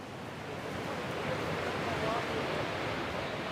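Huge ocean waves pound the coast below a clifftop surf spot, making a continuous heavy roar of breaking surf that fills the whole clip with no gaps.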